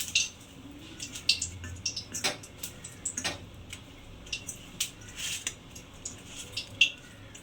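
A knife taps repeatedly against a plate or board while boiled eggs are cut in a home kitchen, a steady run of light, crisp clicks, close and clear, with no talking.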